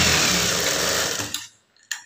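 A close, loud sewing machine runs fast and steady while stitching a blouse sleeve, then winds down and stops, followed by a single short mechanical click.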